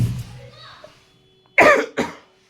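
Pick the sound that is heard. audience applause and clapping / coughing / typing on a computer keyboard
coughing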